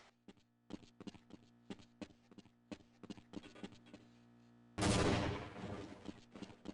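In Half-Life: Blue Shift, a grenade goes off with one loud, sudden blast that decays over a couple of seconds, following a string of quieter, evenly spaced clicks and taps.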